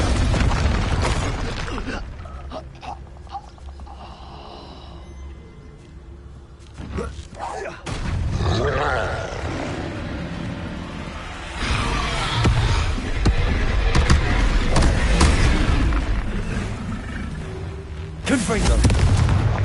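Expulso spell blasts in the video game Hogwarts Legacy sound as several heavy booms spaced through the stretch, with rumbling and creaking debris in between and a voice talking at times.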